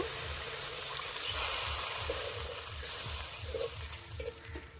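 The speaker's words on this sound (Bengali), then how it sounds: "মশলা থেকে তেল ছেড়ে দিয়েছে এবার জল দিয়ে দেব" Masala paste frying in oil in a pan for an egg and brinjal curry, a steady close sizzle with soft stirring scrapes and a brief surge as a little water is poured in.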